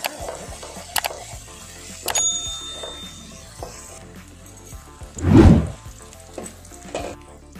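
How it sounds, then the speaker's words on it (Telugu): Masala frying in oil for an Andhra-style spicy country chicken curry, with intermittent scraping and stirring in the pan, clinks of a utensil, and one louder burst of sizzle midway. "మసాలా బాగా వేగిపోయింది. ఇప్పుడు బాగా కలుపుకోవాలా."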